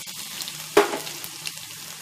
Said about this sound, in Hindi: जब राई तड़कने लगे तो हम इसमें जीरा डालेंगे। अब हम इसमें लहसुन डालेंगे